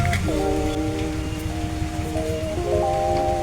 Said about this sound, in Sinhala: ඔන්න පුතේ අද චුරු චුරු වැස්ස පටන් අරගෙන